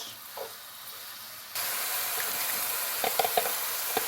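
Minced meat sizzles in a frying pan for an eggplant dish, a quiet hiss that turns into a loud, steady broadband sizzle partway through, with a few sharp crackles and pops near the end.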